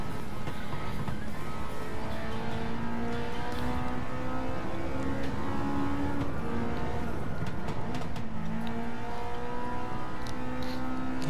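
A Honda S2000 engine screaming through gears while racing in Gran Turismo 7, steady loud revving with rising and falling pitch as it shifts and corners, no talking.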